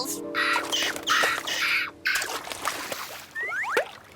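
Cartoon seagulls squawking out at sea by the fish: a few harsh, raspy cries in quick succession, then rising squeals near the end, fairly close and alone without talk.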